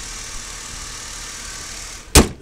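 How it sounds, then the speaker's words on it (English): A 2001 Dodge Stratus SE sedan runs at idle after a jump start, giving a steady, even hum with a whiny high tone, ending in a sudden loud thump near the close. "It's currently running. It's Dodge Stratus 2001."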